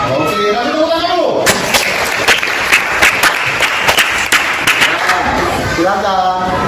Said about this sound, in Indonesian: nanti tepuk tangan dulu